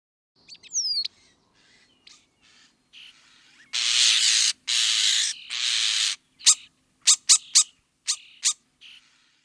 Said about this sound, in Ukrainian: А зараз давайте подивимось і послухаємо шпака